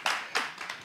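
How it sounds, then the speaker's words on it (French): A small studio audience gives a brief, scattered burst of clapping with a few separate bursts close by, thin and fairly quiet, with no talking. "tout le monde dans le studio, applaudissez pour nous, s'il vous plaît, les gars"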